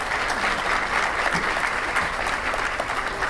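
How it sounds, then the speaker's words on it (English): Warm round of applause from a graduation audience as scholars step up to receive their capstone certificates, steady dense clapping held at an even level throughout with no talk. "give our scholars a warm round of applause"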